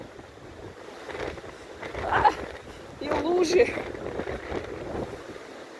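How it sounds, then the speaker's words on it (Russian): Strong storm wind gusts roar against the microphone in Antalya, Turkey, with rain in winter, a steady rushing blow that swells twice, under a person speaking nearby. "И ветрище он какой."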